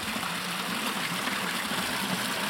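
Water rushes through a washed-out breach in a small village sluice dam, a continuous close roar of gushing water, loud and even, with no other sounds.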